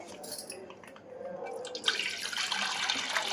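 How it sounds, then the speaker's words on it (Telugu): Tap water running into a sink while a glass is washed, starting with faint clinks and drips, then a steady, louder splashing stream close by. "గ్లాస్ కడిగి"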